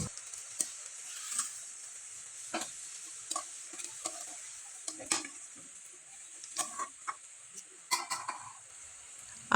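Pitha cakes fry gently in oil over low heat, giving a soft continuous sizzle with scattered scraping and light utensil clicks, no voices.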